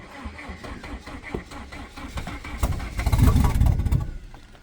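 A 1992 Volvo 460 turbo with a temperamental starter cranks in a rapid rhythmic chug, then catches and swells into a louder rough engine burst before tapering off, close by with no talking.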